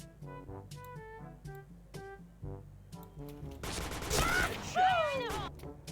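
A rapid burst of gunfire plays as a kill sound effect in a shooter video game, coming after some melodic tones with sweeping electronic whooshes over it. The burst is fairly quiet overall and runs about two seconds.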